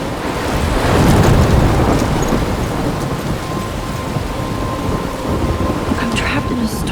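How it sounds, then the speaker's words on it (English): Thunderstorm with heavy rain in the video game Life is Strange, a dense continuous hiss of downpour with a deep rolling rumble of thunder swelling early and fading into steady rain. "I'm trapped in a storm?"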